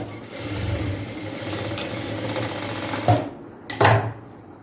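A sewing machine runs steadily, stitching a chudidhar top at a tailoring lesson, a continuous close mechanical whirr with a couple of brief louder bumps near the end.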